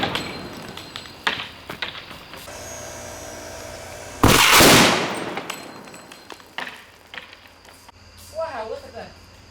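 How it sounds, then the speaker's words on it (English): Copper cable blowing apart under high electric current, set on blocks with nuts and bolts scattered around it: one loud, sharp blast that decays over about a second, amid faint clicks and clatter. "Wow, look at the exploded cable there."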